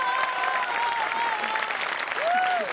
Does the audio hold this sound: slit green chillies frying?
no